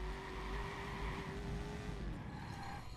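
A car races past in the Watch Dogs video game, its engine a steady tone that drops in pitch as it goes by, with a brief tire squeal near the end and constant game noise behind it.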